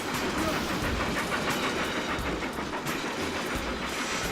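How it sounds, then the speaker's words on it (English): A train rumbles and clatters steadily in Final Fantasy Crystal Chronicles: The Crystal Bearers, a continuous loud clickety-clack with hiss that stays constant from start to finish. "Loud choo-choo train"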